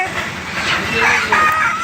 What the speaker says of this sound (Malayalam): നാടൻ കോഴിയെല്ലാം ഉണ്ടല്ലോ